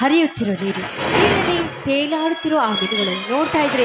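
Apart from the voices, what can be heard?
birds chirping, cuckoo calling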